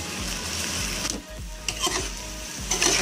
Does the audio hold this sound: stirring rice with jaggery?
yes